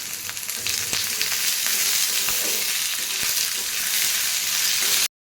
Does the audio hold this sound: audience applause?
no